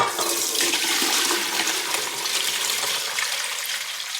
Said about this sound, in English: I'm just gonna pour it into my strainer here and into my bowl